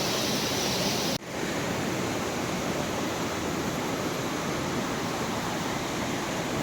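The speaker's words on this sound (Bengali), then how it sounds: "এখান থেকে হয়ে এইরকম জলটা চলে যাচ্ছে ওইদিকে" Stream water in Meghalaya rushes past in a loud, continuous roar, close and unbroken, with a brief dip just after the start and no voices.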